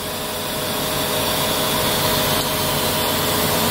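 A CNC machine mills the full profile of a crankshaft, making a loud, steady mechanical whir and hum that carries on without a break, close by and with no voices.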